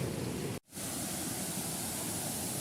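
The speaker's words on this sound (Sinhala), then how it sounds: "ඔන්න අපි ආවා කලාමැදිරි ඇල්ල ගාවට" Kalamediri waterfall in the Kalabokka area pours steadily as a broad, continuous rushing wash of water, holding an even level except for a brief dropout near the start.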